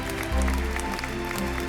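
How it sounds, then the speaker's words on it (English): Applause at a New York charity gala honoring Robert Kraft, a brief steady patter of clapping from the audience over a low rumble and faint background music. "Another round of applause to the one and only"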